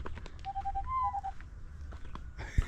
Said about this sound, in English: that's a bird producing that nice voice or sound